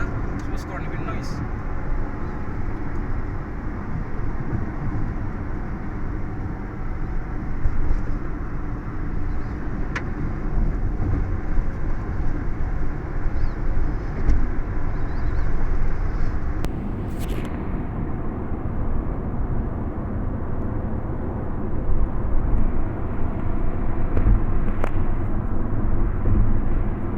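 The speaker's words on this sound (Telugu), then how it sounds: "wind noise" Renault Triber cruising near 100 km/h, steady low cabin rumble of wind and road noise filling the car, with a person talking over it most of the time and a couple of brief higher whooshes.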